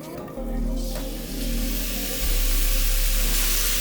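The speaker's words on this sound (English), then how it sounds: "Time to cook the steak." Steak sizzles loudly in hot olive oil in a pan, a dense steady hiss that swells as the meat hits the surface, with a low hum beneath.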